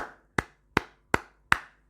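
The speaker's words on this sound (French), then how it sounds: "acclamation pour vous" Four sharp, evenly spaced hand claps ring out close and alone, slow and deliberate, each one snapping crisply and then fading fast.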